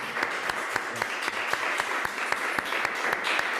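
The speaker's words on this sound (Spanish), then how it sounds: "me permitiría solicitar un aplauso aquí a los participantes que están con nosotros" A small group of participants at an educational presentation applauding steadily, with dense overlapping claps throughout and no one speaking.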